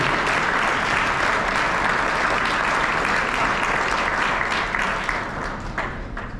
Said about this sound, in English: One more round of applause for again, our senior class here.